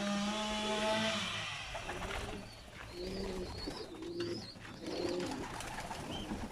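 Pigeons in a loft coo in soft repeated low phrases, several birds overlapping at close range, with faint chirps and rustling behind and no speech.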